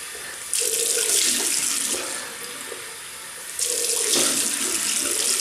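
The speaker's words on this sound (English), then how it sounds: "Right, we'll rinse off." A bathroom tap runs for rinsing off after a shave, water splashing steadily into the sink with a softer stretch midway before the flow strengthens again, close and clear with no talking.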